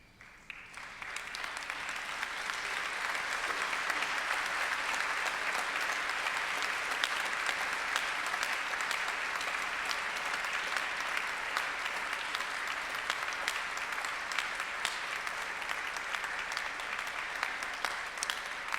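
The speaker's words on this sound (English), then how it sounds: "express your gratitude with a round of applause" Guests at a university graduation ceremony give a long, standing round of applause, a broad, even roar of many hands clapping that builds quickly and holds steady for nearly twenty seconds.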